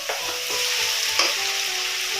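Onion sautés with ginger garlic paste in a pan for chicken fried rice, a bright continuous sizzle near at hand with a couple of stirring scrapes, no talking.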